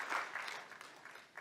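Audience at an annual awards ceremony with bhajan singer Anup Jalota clapping in tribute, a brief, soft, fairly distant patter of hands that thins out toward the end.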